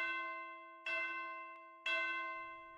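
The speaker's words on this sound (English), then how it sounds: "Our final instrument for this video are the tubular bells." Three struck tubular bell notes ring out in turn, each clear metallic strike decaying slowly with a bright, sustained shimmer.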